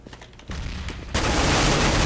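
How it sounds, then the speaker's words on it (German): Grenade blasts and gunfire in a Counter-Strike: Global Offensive match on the Inferno map, starting with faint scattered shots, then a loud burst at half a second and a sustained, dense roar of explosions and shooting through the rest. "hier kommen auch schon wieder Granate"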